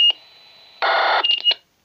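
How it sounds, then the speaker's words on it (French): A brief electronic ANI radio identification data burst from a Puxing PX-777 UHF handheld radio: a short beep, then a dense buzzing chirp of tones ending in a few quick blips, clear and close. "Ça, c'est le bruit du ANI. Ça permet d'identifier un poste."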